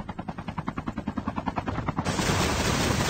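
Rapid automatic gunfire in a video game, a fast even stream of close, punchy shots. Partway through it gives way to a sustained loud wash of noise.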